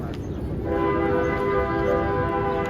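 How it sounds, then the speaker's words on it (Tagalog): A toy train's horn sounds a sustained, steady tone over rumbling noise, fairly loud and close, with faint voices in the background, in a park in Mexico. "Ay, laruan lang pala yun. Akala ko totoong tren."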